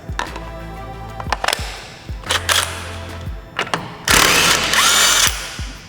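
A cordless battery-powered impact tool breaks loose a tight lug nut during an LS engine swap, with several short loud bursts of whirring and hammering separated by pauses, ending in a longer sustained run.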